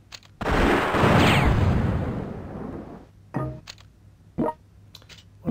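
A loud, close artillery blast from European War 6 1914 rolls out into a long rumbling decay, followed by a few sharper, shorter gunfire cracks. No speech over it.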